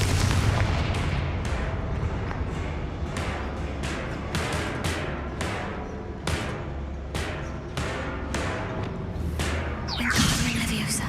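Confringo spell explosions from the video game Hogwarts Legacy go off as a string of sharp, loud blasts, about a dozen at irregular intervals, ending in a bigger crash.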